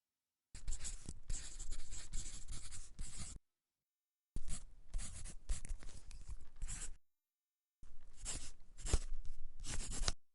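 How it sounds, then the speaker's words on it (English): Pen or marker scratching across a surface as binomial terms are written out by hand, three close bursts of steady scribbling separated by brief silent pauses, no talking. "let me write this down 3 more times"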